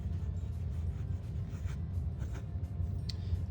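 A Pilot Varsity fountain pen with a medium stainless steel nib moves across paper in a few short, faint scratchy strokes over a low background hum.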